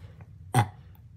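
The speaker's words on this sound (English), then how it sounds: "Sorry, I burped." A single short, throaty burp from a person, fairly close and loud, with quiet room tone on either side.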